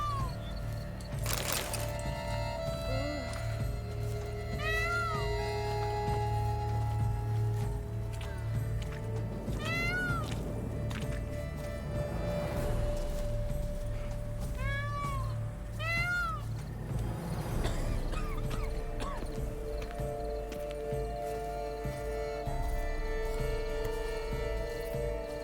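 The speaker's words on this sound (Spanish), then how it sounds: "ese era un pavo real" Peacock calls in The Witcher 3 video game, several loud, cat-like wailing cries repeating in bursts over a steady ambient game background, with no talking.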